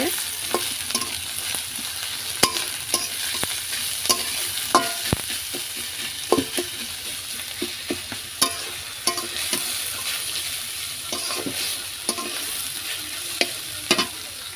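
Spices frying in oil in a pan while meat is cooked, a steady close sizzle with frequent stirring clicks and scrapes throughout, no talk.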